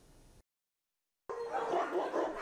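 Dogs bark in a dense, restless chorus at an over-crowded animal shelter holding about 120 dogs, loud and continuous after a brief silent gap.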